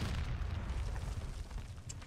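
A bomb explodes in the Modern Warfare 3 video game as a deep, rumbling boom that rolls on steadily for about two seconds, with no talking over it.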